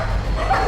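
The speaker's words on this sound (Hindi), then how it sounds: "दरवाजा बंद कर दो, कुत्ते आ जाएंगे" A dog barks once, a short close yip-like bark in a brief burst amid a household scene, with no speech over it.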